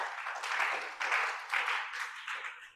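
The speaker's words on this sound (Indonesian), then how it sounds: "tepuk tangan bagi Tuhan kita" Church congregation applauding in praise during a sermon, a soft, fairly distant wash of clapping rising and falling in several short swells.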